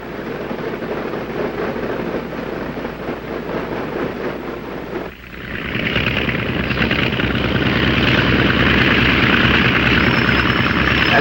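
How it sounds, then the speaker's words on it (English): A US Navy training aircraft taxis over to the warm-up block, its engine and propeller giving a steady, loud drone that swells a little halfway through and then holds, with no voices over it. "Ground control having given us permission, we taxi over to the warm-up block."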